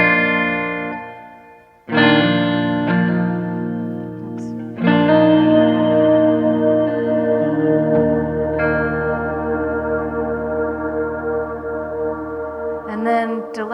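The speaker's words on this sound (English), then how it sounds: "A whole different level of reverb that I can adjust with this pedal" An electric guitar rings out in sustained chords drenched in pedal-controlled reverb, with three strummed attacks whose long washy tails blend together, loud and close.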